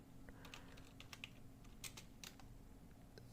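Soft, scattered keystrokes on a computer keyboard, faint and irregular, sitting over a steady low background hum with no talking.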